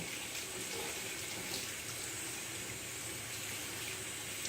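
Hot water runs steadily from a tap while a thrift store doll is washed, a continuous broadband splashing stream at close range with no voices.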